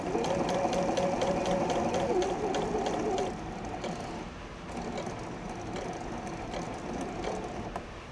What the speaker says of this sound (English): so I'm just gonna go ahead and sew this together